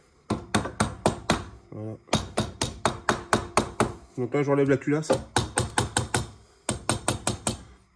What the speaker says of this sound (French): un petit coup de marteau pour le décoller.